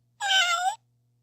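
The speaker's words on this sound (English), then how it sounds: "Cat." A single clear cat meow, drawn out and close, over a faint low hum.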